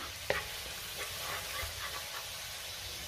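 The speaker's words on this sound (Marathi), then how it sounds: "त्यातच आपल्याला बारीक चिरलेला लसूण घालायचा आहे। 1 मिनिटभर मी चांगलं परतून घेणार आहे।" Finely chopped garlic with green chilli sizzles as it is sautéed in a pan for fried rice, a soft steady hiss with a sharp tap of the spatula near the start, fairly quiet and without talk.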